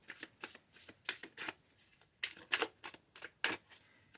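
Tarot cards shuffled by hand in a quiet room, a close series of crisp riffling bursts in an uneven rhythm with short pauses between them and no talking.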